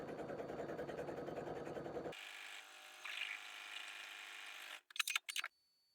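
A sewing machine stitching buttonholes on a vintage poof-sleeve dress: a loud, rapid buzzing run of stitches, then a thinner steady whir, ending in a few short bursts before stopping.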